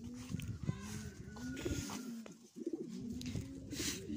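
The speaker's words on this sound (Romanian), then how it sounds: "A, sunt porumbei unui vecin." Pigeons coo softly at a distance, low throaty calls repeating against faint outdoor background noise.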